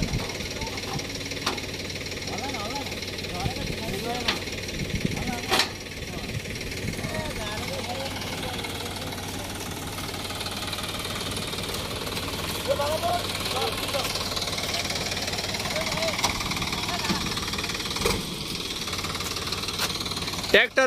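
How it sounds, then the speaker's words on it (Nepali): A tractor's engine strains to tow a vehicle stuck in a river. It makes a loud, knocking diesel chug that rises and falls with effort, mixed with occasional sharp clanks, while people talk over it throughout. "हेरौँ अब तानिन्छ तानिँदैन ट्र्याक्टरको दम"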